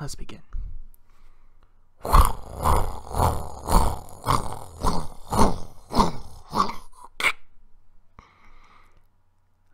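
A person's voice imitates a washing machine after a brief spoken cue. Around five seconds of rhythmic, breathy, churning vocal pulses follow, close and fairly loud, then stop abruptly, leaving near silence.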